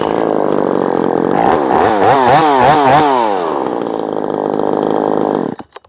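A ported Poulan Pro 4620 chainsaw runs loud and close, holding a steady high rev before bouncing through rapid rising and falling throttle blips, then settling and cutting off abruptly at the end.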